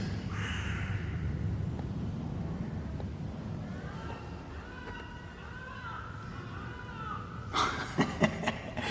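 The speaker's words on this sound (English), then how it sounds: "The seagulls are adding some drama." Several gulls call in a series of wavering cries at mid distance, over steady wind and water noise, with a burst of louder sound near the end.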